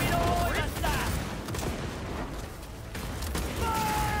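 Grenade blasts and gunfire in Cyberpunk: continuous rumbling combat with rolling explosions and scattered shots, dense and loud throughout, with people talking over it.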